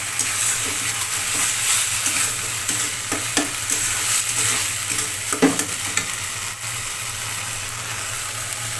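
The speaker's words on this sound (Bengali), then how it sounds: "এবার এটাকে ভালোভাবে নেড়ে চেড়ে মিশিয়ে নেব।" Banana flower stirred and frying in a pan, a steady sizzle with spatula scrapes and clinks near at hand, alone throughout.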